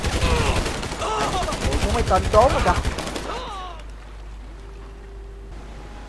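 Guns on an enemy boat in a Spider-Man video game fire in rapid automatic bursts for about three seconds while a voice speaks over them, then quieter game ambience follows.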